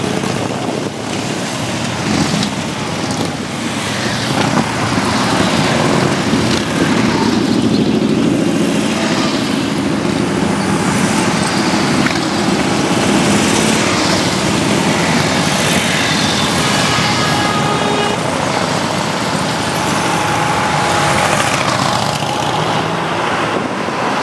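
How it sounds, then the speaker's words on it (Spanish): Harley-Davidson motorcycle engines outside a dealership, a continuous loud rumble and roar that holds steady for about twenty seconds, heavy and wind-buffeted, with no talking over it. "Escuchemos el sonido de los motores, espectacular."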